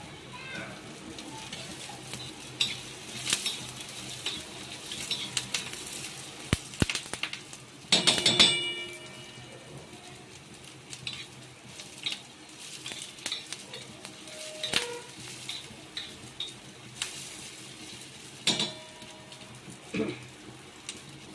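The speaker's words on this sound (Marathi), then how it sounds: "लवंगा मिऱ्या भुसते आहे सर्व एकत्र गरम मसाला घेतलेला आहे मस्त भुजून घ्यायचे" Cloves, black peppercorns and whole garam masala spices dry-roast in a pan, giving a steady rattle and scrape of stirring with sporadic sharp clinks of the utensil against metal, close and moderately loud throughout.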